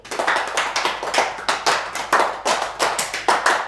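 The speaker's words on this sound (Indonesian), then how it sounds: "Tepuk lima tiga kali." Children in a classroom clap out a patterned routine of five-beat groups repeated three times, a brisk, steady run of close, fairly loud group claps with no speech over them.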